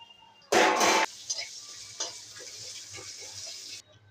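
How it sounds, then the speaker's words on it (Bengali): Panch phoron spices, chillies and bay leaves dropped into hot mustard oil for a vegetable and fish-head chorchori, giving a loud burst of sizzling that quickly settles into faint crackles and light stirring. "একটু সর্ষের তেল দিয়ে দিলাম, 5 ফোড়ন, লঙ্কা আর তেজপাতা।"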